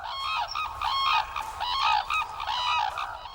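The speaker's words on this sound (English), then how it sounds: "Calling reinforces bonding between pairs which mate for life," A pair of geese honk back and forth at a noisy breakfast gathering, loud repeated nasal calls in overlapping bursts about every half second, close by with no voices.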